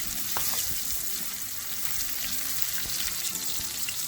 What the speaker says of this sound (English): Now my oil is hot. Let's fry the fish.